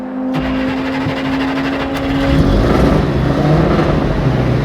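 A Mercedes 220 Ponton engine cranks and catches, then settles into a steady, rumbling idle with a slight rise in revs, loud and close.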